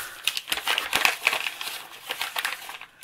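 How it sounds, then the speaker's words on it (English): Paper for a grunge bag journal is crumpled by hand close up, a dense run of crackling, crinkling bursts with short pauses between squeezes. "I'm going to crumple it up a little bit"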